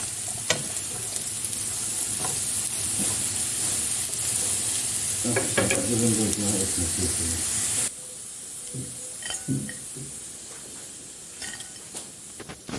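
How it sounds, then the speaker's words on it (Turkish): Steady sizzling and hissing of potatoes frying in a little oil in a pan, with occasional stirring clatter, then a quieter softer sizzle toward the end. "Bakın çok az bir yağda çok da güzel kızardılar."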